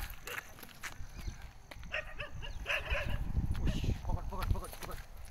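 Stray street dogs bark faintly at a distance, in short scattered yips mixed with footsteps and outdoor noise while people talk nearby.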